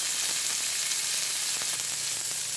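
Fresh fish sears in a hot pan with rosemary and lemon juice, giving a steady, loud, close sizzle that holds throughout with no talking.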